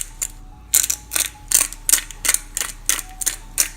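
A pepper grinder cracks peppercorns for a meal-prep dish in a quick run of about nine close, crisp ratcheting bursts, each a short gritty crunch repeated in a steady rhythm, with no talking.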